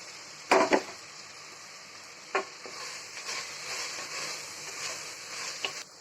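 Tomatoes cook in a pan as mint and coriander are tossed in for kuska: a couple of sharp utensil knocks, then a soft continuous sizzle that swells and settles, with one more clatter near the end.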